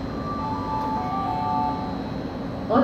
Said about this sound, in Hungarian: Aranyhíd Express vonat érkezik Szeged állomásról a 4. vágányra.